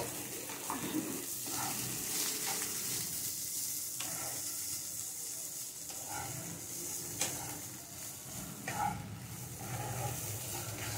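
Soaked flattened rice (chire) with turmeric is stirred in a frying pan. A spoon scrapes repeatedly over a continuous, moderate sizzle.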